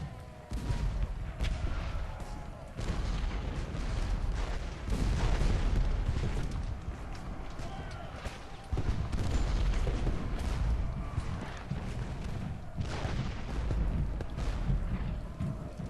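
Artillery and massed gunfire in the Civil War strategy game Ultimate General: Gettysburg, a dense, continuous battle din of booming cannon shots and crackling volleys rolling without pause at steady, loud volume.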